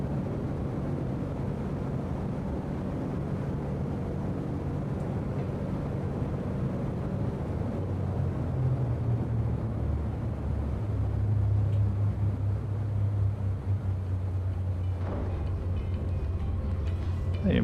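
A Baron aircraft landing in the X-Plane 11 flight simulator gives a steady, loud engine drone with a deep rumble that shifts slightly in pitch near the end, heard alone without speech.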